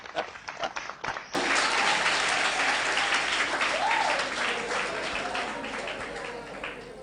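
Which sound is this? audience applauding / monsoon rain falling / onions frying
audience applauding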